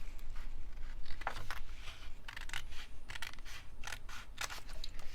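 Scissors snipping around a scrapbook pocket on a 12 x 12 layout, a run of short crisp cuts in quick irregular bursts, close and fairly quiet, with no talking.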